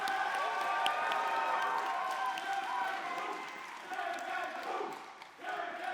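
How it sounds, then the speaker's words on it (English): A live audience at a streamer race final cheers and claps in a steady, loud wash of applause and shouting, dipping briefly near the end before rising again, with voices mixed into the din. "we have the cheer gang in the crowd"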